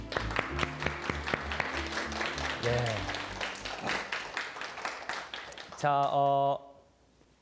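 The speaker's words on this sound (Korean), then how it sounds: "박수 한번 쳐주세요." An audience at a science lecture on attraction applauds as two volunteers are called up, a dense patter of clapping that fades while someone speaks over it.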